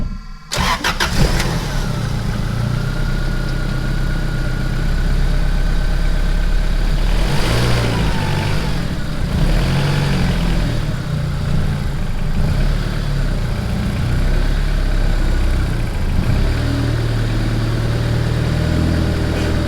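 Right after its first start, a turbocharged Honda Accord engine runs loud and close, holding a steady idle with a few rises in revs.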